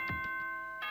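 A school announcement chime from the Danganronpa: Trigger Happy Havoc video game, a short ding-dong of bright tones rising over a sustained steady tone, fairly quiet and heard alone.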